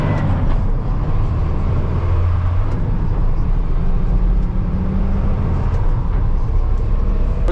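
A big truck rumbles along a job site during a park build, a loud, steady low engine drone with road noise and cab rattle, close and continuous, with no clear talk.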